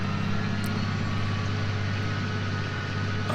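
A heavy farm vehicle engine in Farming Simulator 19 drones steadily with a deep, constant low rumble as it climbs a hill, loud and unbroken throughout.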